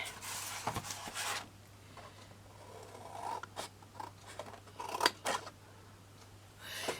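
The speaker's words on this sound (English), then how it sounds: "And then what we're going to do is to cut this." Scissors cutting through craft material for a large trinket box: several crisp snipping strokes close by, spaced irregularly over a quiet room hum, with soft rustling between cuts.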